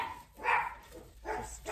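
Dogs bark in a couple of short bursts, a little distant and moderately quiet, while someone wires and twists ties on a watermelon wreath craft.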